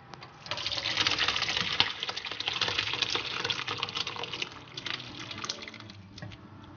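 Whey poured off homemade Adyghe cheese curds, a steady splashing, gurgling flow of liquid running close and fairly loud throughout, easing slightly toward the end, with no voices.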